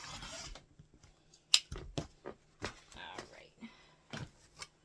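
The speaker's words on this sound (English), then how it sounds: "And make a cut" Scissors cut through cotton quilting fabric in a few sharp snips and soft rustles, close up and fairly quiet, with faint whispery handling noises between the cuts.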